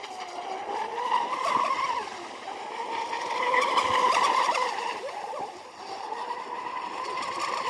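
A Traxxas M41 Widebody RC boat carves through corners on open water, its electric motor giving a continuous high whine that swells and fades as the hull turns, heard alone at moderate distance.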